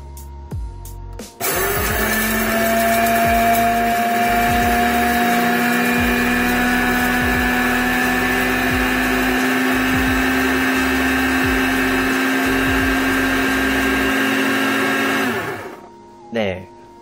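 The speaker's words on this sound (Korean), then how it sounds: "여기 이 푸시를 누르고 커피를 갈아 보도록 하겠어요" Electric coffee grinder grinding coffee beans, a steady loud motorized whine that runs for about fourteen seconds on its own before cutting off.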